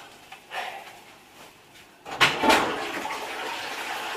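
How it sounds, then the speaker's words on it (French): A toilet flushes with a sudden rush of water that starts after a couple of seconds and keeps running, following quieter bathroom clatter and rustling indoors. "La chasse d'eau."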